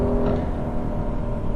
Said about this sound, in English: there's just nothing like bringing out a naturally aspirated engine all the way up to its red line